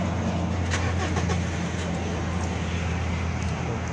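A Mitsubishi Triton engine idles steadily after starting, a constant close rumble with a few faint clicks over it.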